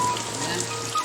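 Heavy rain pours over a rural village, a dense, steady hiss of drops on surfaces filling the whole moment, with no break in the downpour.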